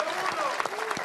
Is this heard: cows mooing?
no